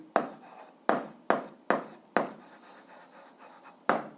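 Handwritten note-taking, pen or chalk strokes scratching in quick bursts, five sharp stroke onsets followed by a longer rubbing stretch and a final stroke, close and without any talking.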